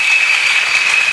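Church congregation applauding Jesus during a Sunday wedding blessing service, a brief, steady wash of clapping hands, bright and dense, with no pauses or voices.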